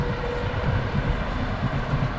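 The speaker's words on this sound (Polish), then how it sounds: "Pociąg właśnie leci" A train rumbles past steadily near a garden under dark cloudy skies, a broad continuous roar without pauses, loud and fairly close.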